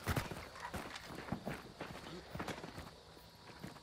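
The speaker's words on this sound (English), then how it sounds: "oh, watch out for the horse there" Horse hooves in the video game Hunt: Showdown, a steady run of quiet clip-clop steps at a walking pace, soft and somewhat distant.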